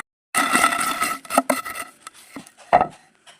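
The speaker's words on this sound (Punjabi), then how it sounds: "ਇਹਨੂੰ ਜਿਹੜਾ ਆਪਾਂ ਵਧੀਆ ਐਂਡ ਬਰੀਕ ਕਰ ਲੈਣਾ ਕੁੱਟ ਕੇ" Raw mango chutney being pounded fine in a wooden mortar with a pestle: a dense burst of grinding, knocking strokes, then a few separate heavier thumps, close up with no talking.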